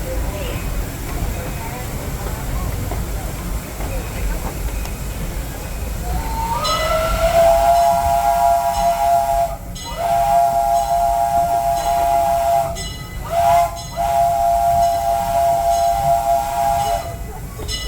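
A Disneyland Railroad steam train rumbles out from Toontown Depot, then its whistle sounds loud, long, sustained blasts, briefly broken and resumed several times over the rolling train noise.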